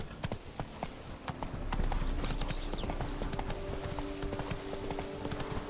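A horse gallops in The Witcher 3: Blood and Wine, its hooves clip-clopping in a quick, even rhythm that holds loud and close throughout, with light ambient game sound underneath.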